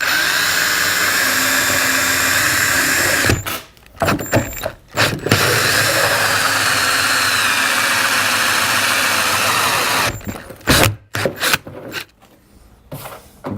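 Loud, continuous whine of a power drill cutting a hole in a plastic pond filter container, broken by short stops and stuttering bursts as the bit starts and finishes.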